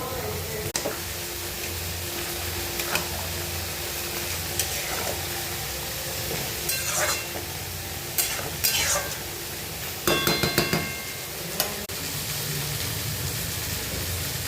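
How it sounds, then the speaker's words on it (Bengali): Spinach and prawns are stirred in a pan as they boil on a gas stove, with soft scraping and clinking of the spoon against the pan over a steady bubbling, sizzling background. "এটা আমি একবার চালিয়ে নিচ্ছি"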